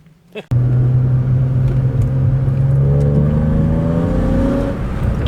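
An engine-swapped BMW E36 car starts with a sharp jolt and then runs and revs steadily, a loud close rumble with rising whine as it drives.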